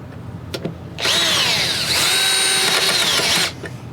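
A drill bit boring out spot welds on the rusty cab corner of an old GMC dually pickup: a single loud, high-pitched whining grind lasting about two and a half seconds, with the metallic pitch shifting as the bit bites.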